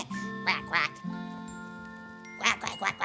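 A cartoon character's voice imitates a duck with rhythmic, close quacks in two groups, over a light tonal backing in a children's show.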